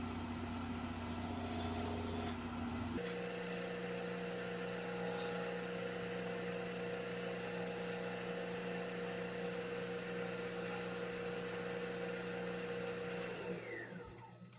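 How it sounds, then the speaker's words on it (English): Wood lathe spinning at high speed while buffing wax off a coloured dish, a steady humming whir with a tonal drone that shifts slightly early on and winds down at the very end. "just going to buff off this wax at quite high speed on the lathe"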